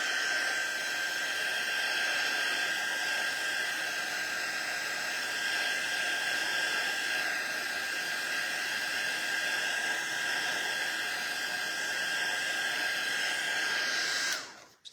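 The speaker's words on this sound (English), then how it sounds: "Now I'm just gonna use my heating tool really quickly." A handheld craft heat tool blows a steady, loud broadband whoosh with a thin whine while drying paint on a stencil, running continuously for about fourteen seconds before cutting off abruptly at the end.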